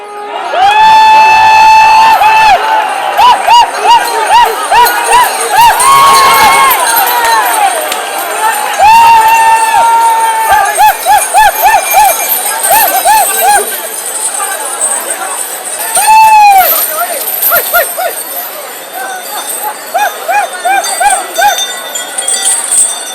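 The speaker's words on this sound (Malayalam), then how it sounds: "ഈ സമയം ആർപ്പുവിളികളും ആരവങ്ങളുമെല്ലാം" Crowd at the Guruvayur elephant race (Anayottam) erupts in loud, sustained cheering and shouting as temple elephants run, with whistles and excited voices rising and falling throughout.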